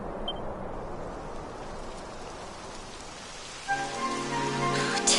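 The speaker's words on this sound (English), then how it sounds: "It would have to go and start raining, wouldn't it?" Rain falls in the Dragon Quest XI S game as a steady, even patter and hiss on surfaces, moderately loud, joined late by a rising tonal musical sting.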